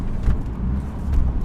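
A Nissan 370Z Nismo engine revs up while driving onto a main road, a low, loud rumble with two short swells in intensity over a second and a half, heard from inside the car with no talking.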